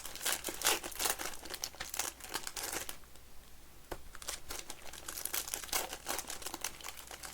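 Panini Prizm baseball card hobby packs being torn open, their foil wrappers crinkling and crackling in quick close bursts with a brief quieter pause midway.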